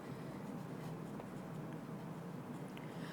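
A pen scratches faintly and steadily across paper while maths working is written out, quiet and unbroken.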